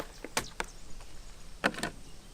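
A Teng Tools toolkit tray lid pops off with a few light plastic clicks and a short scrape, quiet and close with no talk.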